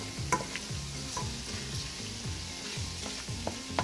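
Pea sauce sizzling in a pan while being stirred, a continuous soft frying hiss with rhythmic scraping strokes of a spoon and occasional light clinks, close and gentle.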